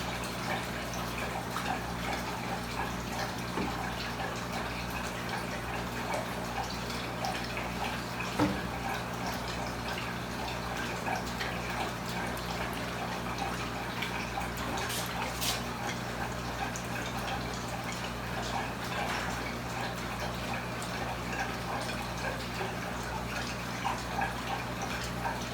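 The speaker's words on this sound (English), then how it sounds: "just getting some of this excess water out" Water being drained out of a fish tank, a steady soft trickling and dripping that runs continuously at low level with a few brief louder splashes.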